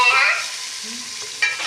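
Okra frying in a pan with onion and garlic, for a bhindi masala, with a soft sizzle and stirring scrapes running throughout at close range, heard alone with no talk.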